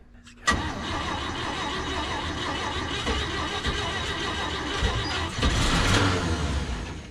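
A flooded 460 big-block V8 in a long-idle Ford F350 cranks over steadily for several seconds, a loud continuous churning starter-and-engine drone that swells near the end without firing cleanly.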